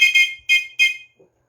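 Sharp high whistles blown in four quick bursts, loud and close, as a Purim reading reaches the name of Haman, followed by a faint low thump.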